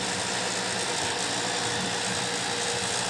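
A steady, even mechanical whir of a spinning Philips vacuum cleaner brush after repair, running continuously at close range with no talking.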